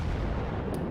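Heavy naval guns fire in World of Warships, a deep booming blast rolling through the whole second with a dense low rumble and a brief sharp crack near the end.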